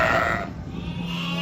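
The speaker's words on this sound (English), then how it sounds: "the ewes and lambs are constantly calling to one another" Ewes and lambs bleat to one another in a noisy livestock setting, a short close call fading into a general murmur of the flock.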